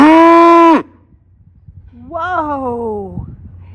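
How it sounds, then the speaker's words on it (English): A panda cow on a farm gives two loud moos close by, the first a short, strong bellow cut off abruptly, the second a longer drawn-out call after a brief pause. "What kind of mooing is that?"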